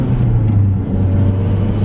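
A car with a new rear motor mount and downpipe shifts from first to second gear, giving a steady, loud low engine drone with a brief dip at the shift and no talk.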